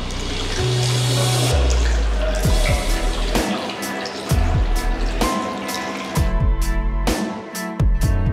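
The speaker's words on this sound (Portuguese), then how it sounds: "Tem uma torneira que tá derramando uma água" A faucet in an art museum installation pours water in a loud, continuous stream, with gurgling and splashing that shifts in pitch as it runs.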